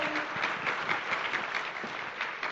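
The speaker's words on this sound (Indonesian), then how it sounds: "Mohon aplaus untuk beliau." A steady wash of applause from an audience in Bali, continuous and fairly loud for the whole stretch.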